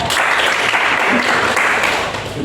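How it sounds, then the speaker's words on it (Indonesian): Students in a classroom give a short round of applause, dense, close clapping lasting a couple of seconds. "Berikan dulu tepuk tangan"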